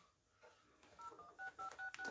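Telephone keypad dialing tones during a live lockdown quiz broadcast, a rapid series of short paired beeps rising in pace and loudness over a faint background hiss, with no talking.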